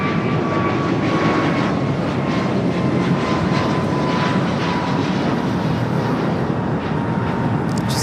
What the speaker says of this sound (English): Just had a United Dreamliner just touched down here on the south side.